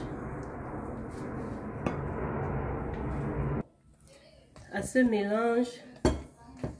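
Corn and banana batter made with fine corn flour being stirred in a bowl, a dense close scraping churn for several seconds, then silence before a voice speaks over a few clinks.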